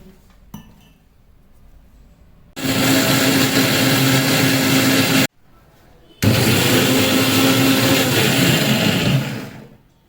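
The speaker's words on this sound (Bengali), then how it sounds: "আমি এটা এবার মিক্সিতে দিয়ে এর একটা পেস্ট বানিয়ে নেব" A mixer grinder blends ginger and curry leaves into a paste, running in two loud, steady bursts of a few seconds each, split by a brief pause, with a faint clink just before.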